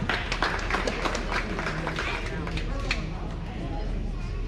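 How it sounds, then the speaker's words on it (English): Applause from a county fair crowd for a junior 4-H/FFA dairy goat showman, steady scattered clapping at moderate distance with talk mixed in throughout. "Please give our junior showman a big round of applause."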